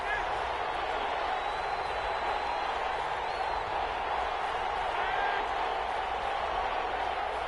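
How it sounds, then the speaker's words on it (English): Football stadium crowd roaring in a steady, continuous wash of cheering and noise, loud and unbroken throughout, with a voice faintly audible over it. "Crowd getting in it a bit already"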